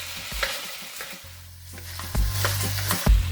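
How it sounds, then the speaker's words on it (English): Peppers and onion stir frying in a hot pan for peppered steak, a steady sizzle with scraping and clacks of a utensil against the pan, louder bursts toward the end. "Now we're going to add our peppers, and we stir fry for another minute"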